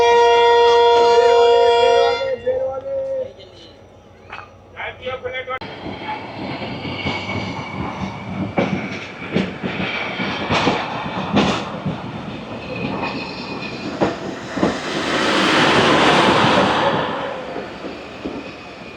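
A train at Jhimpir station sounds a long, loud horn blast, then pulls away with a rumbling roll, clanking wagons and rising wheel noise that swells toward the end.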